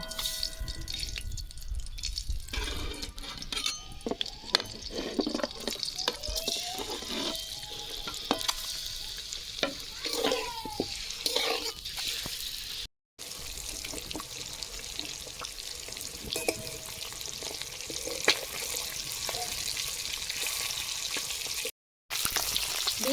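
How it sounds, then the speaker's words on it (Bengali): Eggs fry in hot white oil with a steady crackling sizzle, punctuated by occasional sharper pops and spatters, close and continuous with no talking. "সাদা তেল দিয়ে দিচ্ছি ডিম ভাজবো তেল গরম হয়ে গেছে ডিম দিয়ে দেবো"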